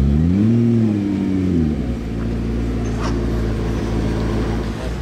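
Hypercars in Monaco, a McLaren P1, a Lamborghini SVJ Roadster and a Mercedes-AMG GT Black Series, rev their engines. A loud engine note rises and falls before settling into a low idle rumble, with faint background voices.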